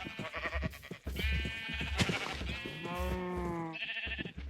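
Sheep in a video game bleating repeatedly, several wavering calls overlapping and following one another closely, loud and near, with no talk over them.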